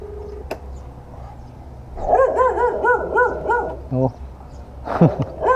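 A dog barks in a rapid series of close, loud woofs, followed by a few shorter yips, with faint background noise and a brief voice.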